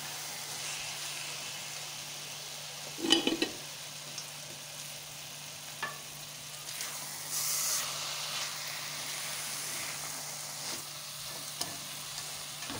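Carrots cooked soft with dissolved sugar for gajar halwa fry in a pan with a steady low sizzle and hiss, broken by a few sharper stirring scrapes and bursts of steam, with no talking.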